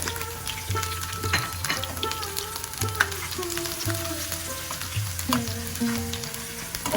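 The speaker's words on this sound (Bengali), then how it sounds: "আর রসুন কুচিটা আমি বাদামি কালার করে ভেজে নিব, লাল লাল করে।" Chopped garlic frying in oil for a lentil dal tempering gives a steady close sizzle and crackle, with a low hum and faint tonal clatter underneath and brief knocks from stirring; nobody speaks.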